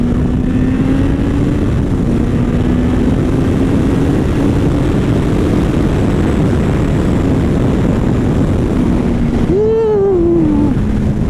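Kawasaki Concours 14 motorcycle, a big ZX14-engined bike, riding with a steady loud engine drone and heavy wind roar, a low rising whine near the end.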